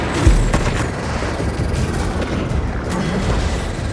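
A bomb goes off in the Marvel's Spider-Man 2 video game with a sharp, loud boom near the start, followed by a dense rumbling, crackling din that carries on steadily.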